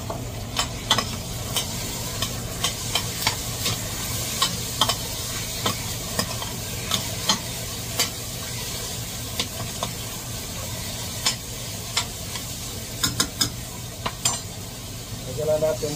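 Beef brisket sizzles and hisses as it is stir-fried in a pan, a constant frying crackle broken by repeated clicks and scrapes of a utensil against the pan, close and fairly quiet.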